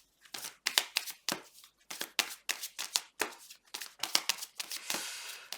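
Tarot cards being shuffled by hand in quick riffling bursts, a run of sharp papery flutters and slaps repeating irregularly at close range, with no talking over them.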